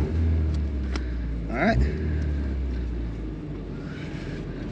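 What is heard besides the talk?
supercharged 3RZ engine in vintage Toyota Sunrader accelerating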